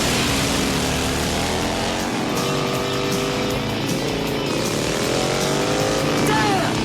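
A motorcycle revs hard at a gang rally in a scene from the film Stone Cold, its engine pitch climbing and sweeping in rising surges under a steady, loud wash of noise, with possible voices mixed in.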